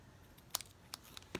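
Scissors snip paper for a card-making craft project in a few quick, sharp, faint cuts over near silence, with a double snip near the end.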